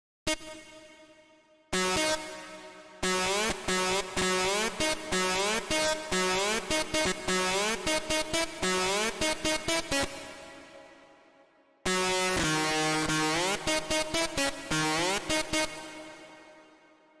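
A bright synth plays a quick melody with rapid legato trills, notes sliding smoothly, in two phrases separated by short pauses.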